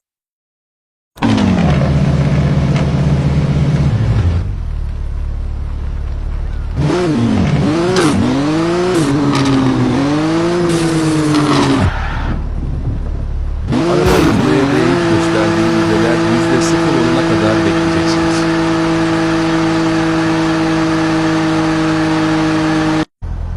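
A 925 HP all-wheel-drive race car in a drifting video game revs hard and loud, its engine note climbing and falling in repeated sweeps, then settling into a sustained high drone near the end.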